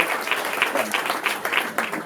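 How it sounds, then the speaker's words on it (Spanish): Applause from an audience at the opening of a political talk, a short spell of clapping with a loose pulsing rhythm of individual claps over a low murmur of voices, moderately loud. "Le vamos a dar un aplauso para que arranque esta charla."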